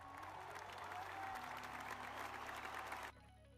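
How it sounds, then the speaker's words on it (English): A dense wash of applause plays for about three seconds, steady and fairly close, then cuts off abruptly into near quiet. "And round of applause for Harshith."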